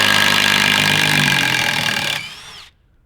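A power tool drives screws while reclaiming wood for a small garden shed, running loud and steady with a constant motor whine for about two seconds before spinning down and stopping.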